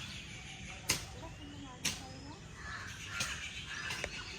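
A crow gives a few sharp, separate caws at moderate distance over a low outdoor background murmur, each call short and spaced about a second apart.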